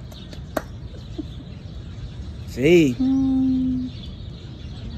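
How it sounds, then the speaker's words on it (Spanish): A small bird chirps and calls nearby in a quiet home setting, giving one rising, warbling call followed by a short steady whistled note, faint background sounds around it. "Los pajaritos."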